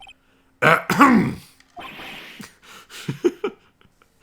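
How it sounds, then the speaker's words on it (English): A character in the video game Phoenix Wright: Ace Attorney clears their throat with a rough, gravelly rasp, followed by a few short grunts and breathy vocal noises. "Maybe I should clear my throat?"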